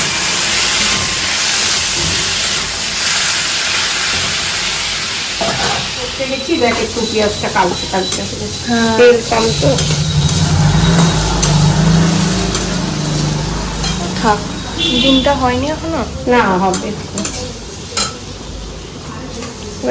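Onions and vegetables frying in a pan with a steady sizzling hiss and occasional stirring clatter, close up, as voices talk over parts of the cooking.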